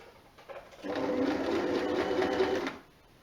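A sewing machine stitches the sleeve and bottom hems of a jersey top with a short, close, rapid whirring run of about two seconds.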